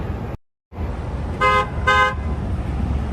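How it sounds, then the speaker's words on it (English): Two short car horn honks sound close together on the Las Vegas Strip, on a hot, windy day, over steady street noise with a brief dropout at the start. "Honk, honk."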